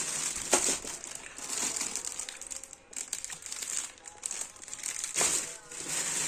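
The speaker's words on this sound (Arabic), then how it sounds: "الكيس ده كده صغير بيتفرد، بتغطي بيه الاطباق" A small plastic bag, the kind used to cover dishes of leftovers in the fridge, crinkles and rustles in repeated bursts as it is unfolded close by.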